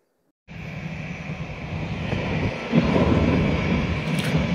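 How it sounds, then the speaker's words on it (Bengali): A Kuwait Airways airliner takes off at an international airport, its jet engines roaring steadily and swelling slightly louder over a few seconds, heard from nearby. "একটি বিমান উড্ডয়ন করছে এবং পাশে আরেকটি বিমান ল্যান্ডিং এর জন্য দাঁড়িয়ে রয়েছে।"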